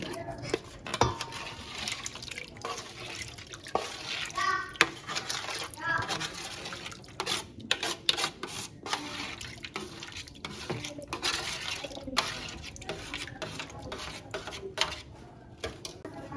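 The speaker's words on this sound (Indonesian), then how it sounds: "Selanjutnya aduk hingga betul-betul tercampur" Stirring a drink of strawberry jelly, cincau grass jelly and soaked basil seeds, a soft, irregular run of clinks, scrapes and liquid swishes as a utensil moves through the glass, fairly quiet throughout.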